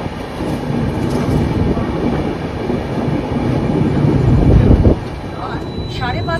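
The Coalfield Express (12340) pulls out of platform 4 at Dhanbad station with a loud, close rumble and rolling wheel noise that grows, then drops away sharply near the end, leaving quieter platform ambience.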